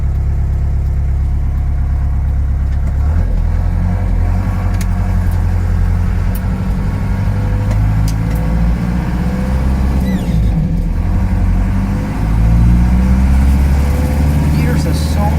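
A 1989 Land Rover Defender Perentie 110 4x4 drives in first gear, its engine giving a steady low rumble from inside the cabin throughout, with people talking over it.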